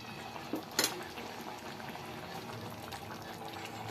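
Curry pieces simmering in tomato water, a soft close bubbling with a couple of sharper liquid pops near the start, then a low steady burble continuing alone.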